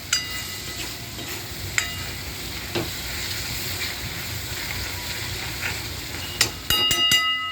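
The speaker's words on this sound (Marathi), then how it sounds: "आता छान शिजलाय मसाला तेलामध्ये." Spiced masala for stuffed brinjal cooks in oil with a steady, even frying hiss. A few faint spoon taps come through, and a cluster of sharper clicks arrives near the end.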